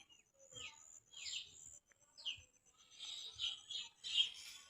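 Faint, high chirps from baya weaver birds nesting in a palm tree come in short bursts, several calls overlapping softly at a distance in quiet surroundings.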